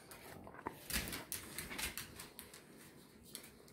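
A dog playing with a handmade denim bone toy, making faint low growling and whimpery noises with soft scuffling and tugging sounds, fairly quiet throughout.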